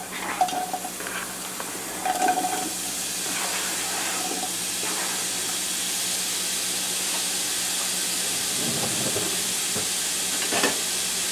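Onions sizzling in a pan over medium-low heat for marinara sauce, a steady broadband hiss with a few soft stirring scrapes and clinks early on and near the end.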